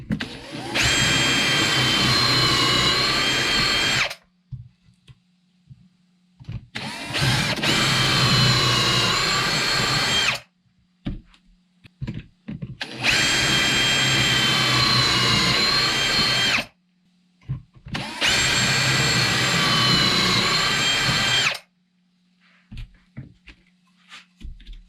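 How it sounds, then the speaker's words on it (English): A power drill drives screws into wood panels of a square drop camper, running in four sustained bursts of several seconds each, separated by short pauses with a faint low hum, loud and close. "we're just gonna go ahead and glue them in and run a couple screws in"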